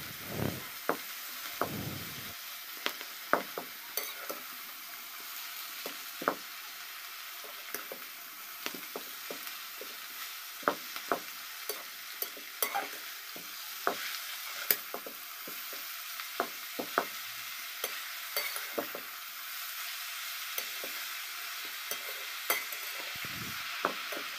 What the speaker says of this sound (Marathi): भाजीला फोडणी दिल्यावर तिला आपण आता परतून घेणार आहोत